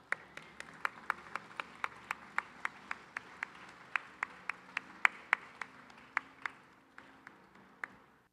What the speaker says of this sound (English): Let's keep that round of applause going for the mayor.